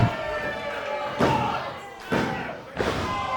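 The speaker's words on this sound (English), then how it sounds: "Top rope missile drop kick." A wrestler lands a top rope missile drop kick during a wrestling show, giving three heavy thuds roughly a second apart against a steady crowd din and ring noise.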